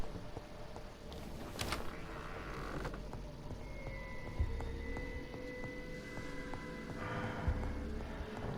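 A door creaks open slowly in the dark video game Vampyr, a drawn-out, wavering creak with a few knocks and clicks over quiet ambience, fairly faint and with no talk.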